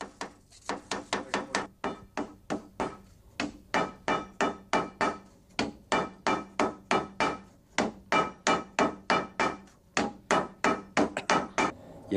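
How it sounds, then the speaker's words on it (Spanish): A wooden mallet repeatedly pounds a metal piece in a boilermaker's workshop, rounding it and flattening the weld, about three sharp resonant blows per second in steady runs with brief pauses, close and loud. "el calderero Joaquín Sirvent redondea la pieza dando golpes con un mazo de madera y machaca la soldadura hasta conseguir que el cuerpo sea uniforme"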